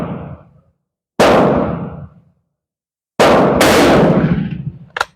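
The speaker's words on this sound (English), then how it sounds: "I am shooting with the sight all the way down." Two loud, sharp rifle shots from a Dutch Mannlicher rifle firing PPU 130 grain or Hornady 160 grain bullets outdoors, each followed by a decaying echo, with a small click at the end.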